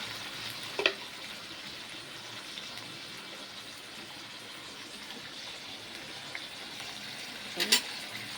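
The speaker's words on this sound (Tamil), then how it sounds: "வதக்கிடுவோம்." Tomato, curry leaves and spices sauté in a hot pan with a soft, steady sizzle throughout, broken by two brief sharp clinks of a utensil against the pan near the start and end.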